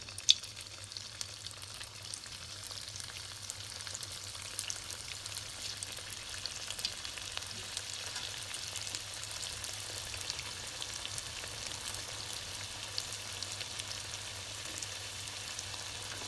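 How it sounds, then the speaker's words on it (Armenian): Vegetable Manchurian balls deep-frying in hot oil in a home kitchen, a steady, even crackling sizzle that holds at a moderate level throughout, with no voices over it. "Հիմա երբ ձիթայուղը տաք է, ուղարկում ենք մեր գնդիկները այնտեղ տապակվելու։"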